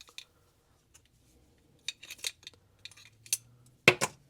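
Scissors snip through the security tag on a Timex Scout watch, a few sparse clicks at first and then a cluster of sharp cuts and clinks building to two loud snaps at the end, with no speech.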